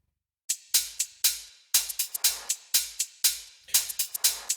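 A rearranged percussion loop in Ableton Live for a melodic house track: crisp, bright hits in a syncopated pattern, short sharp transients with quick decays, fairly quiet and alone.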